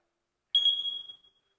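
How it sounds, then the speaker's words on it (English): A single high-pitched electronic alarm tone from a smoke detector sounds once, sustaining for under a second before fading out, with silence before it. "Now the sound that we're all talking about is a smoke detector sound."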